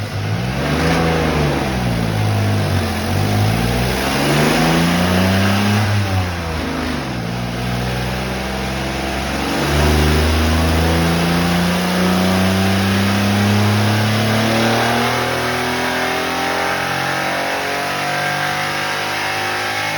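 A Geo Metro XFi engine on a small nitrous shot revs loudly and up close, its pitch rising and falling in several sweeps before climbing in one long, steady pull.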